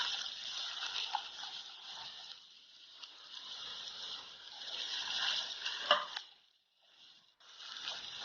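Onions added to a pan of oil with ginger-garlic paste: a soft, crackling sizzle with occasional scrapes rises and falls, briefly dipping near silent before resuming.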